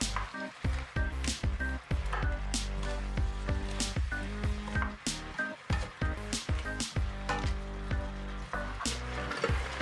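Vegetables stirred in a cooking pot on the stove, a steady wet squishing and sizzling with repeated soft scraping strokes, close and continuous with no talking.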